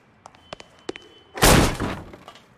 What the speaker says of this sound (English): Don't bother knocking, just kick the door in.